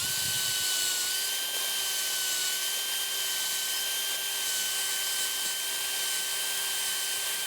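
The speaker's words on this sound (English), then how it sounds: "Just take the drill like this. You're gonna go a little bit of an angle." A power drill bores a tap hole into a black walnut tree. The motor whines steadily and sits close and constant for over seven seconds, with no one speaking.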